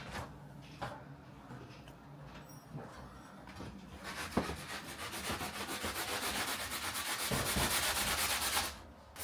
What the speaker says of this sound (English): I'm gonna sand it down with some sandpaper and then go over it again